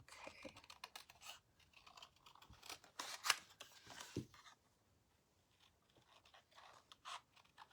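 Small scissors snipping through paper around a stamped butterfly, a quiet close series of irregular crisp cuts and rustles, with a brief lull partway through.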